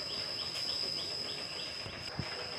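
Birds chirp in quick repeated bursts over a rice paddy on a bright, sunny day during rice transplanting, with a steady high insect-like whine and soft outdoor ambience throughout.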